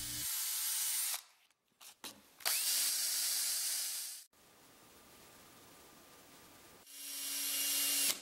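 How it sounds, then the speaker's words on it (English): A power drill whirs at high speed in several bursts, stopping and restarting, with a softer rubbing spin in the middle stretch, as nails are spun in the drill to polish them. "we can also spin them in a drill and get some high-speed shininess"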